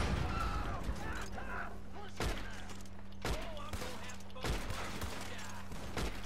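Double-barrel shotgun fire in the video game Red Dead Online, several sharp separated blasts spaced about a second apart, over ambient game noise and a low hum.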